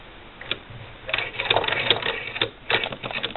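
A Singer Model 20 SewHandy sewing machine stitches a quilt binding at its longest stitch length, producing light, close mechanical clatter in short uneven bursts.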